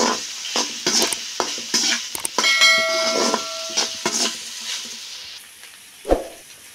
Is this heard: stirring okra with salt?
yes